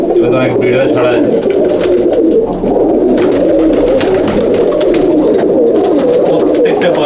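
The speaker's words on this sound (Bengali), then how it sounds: "পুরো রানিং ঘরের ভিডিও কত পায়রা আছে দেখে নিন" Crowded loft of Madrasi pigeons, many birds cooing at once in a constant, close murmur, while someone speaks intermittently above the flock.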